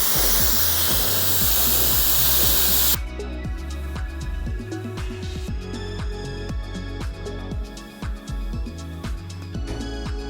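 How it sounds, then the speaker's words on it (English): Blow-drying after a half fade comb over haircut begins with a loud, close roar of rushing air for about three seconds, then turns to a lower steady motor hum with faint ticking. "I always start with blow drying."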